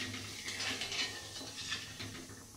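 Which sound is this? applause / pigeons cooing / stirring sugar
stirring sugar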